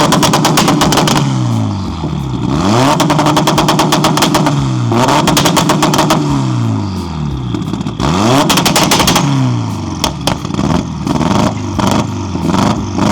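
An Evo's engine with a titanium straight-pipe exhaust revs up and down repeatedly, the open exhaust crackling with rapid popping bursts, close and continuous.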